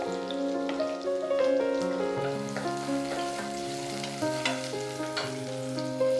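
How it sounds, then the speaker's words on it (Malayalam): Chopped onion goes into a pan where garlic and ginger are already frying for a chana dal curry, giving a steady close sizzle and crackle with stirring scrapes, and no talk over it. "ഒരു സവാള കുഞ്ഞായിട്ട് നുറുക്കിയതൂടെ ചേർക്കാം."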